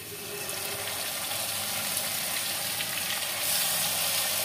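Hilsa fish pieces slid into hot mustard oil with browned onions, giving a steady, close hiss of frying that swells slightly louder toward the end, with no talking.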